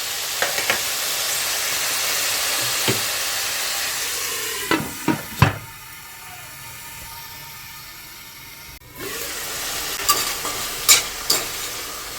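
Broccoli stems fry in a pan, a steady sizzle with a few sharp stirring clacks, then a quieter stretch after the lid goes on, before the sizzle and clinks return.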